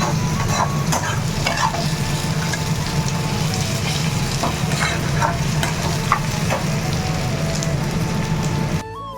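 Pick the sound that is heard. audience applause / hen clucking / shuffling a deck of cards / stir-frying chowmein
stir-frying chowmein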